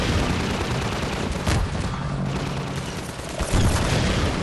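Loud, dense rattle of enemy gunfire in the shooter Half-Life 2, a sustained wash of shots and booms with heavier bursts near the middle and end, close and overwhelming.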